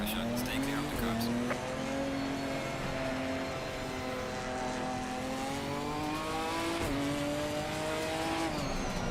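Ginetta GT4 race car engine in Assetto Corsa, racing at Donington Park, a steady sustained engine drone with rising and falling pitch through gear shifts, loud and continuous throughout, with a faint voice in the background.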